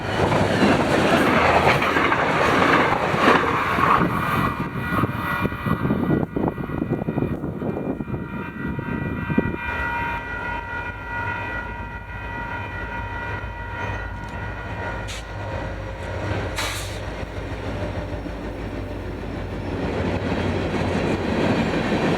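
A Utah Railway freight train led by locomotive 3001 rumbles past at close range, a loud sustained roar of engines and rolling cars with clattering wheels that eases off slightly toward the end.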